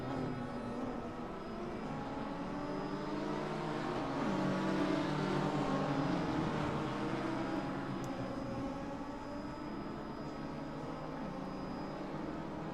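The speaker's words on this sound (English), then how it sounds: "So these are the GT4 cars, not the open wheelers." GT4 race cars in the RaceRoom racing game make a steady engine drone with whining harmonic tones. It rises and swells in the middle and then eases slightly, heard at a moderate distance with no talking.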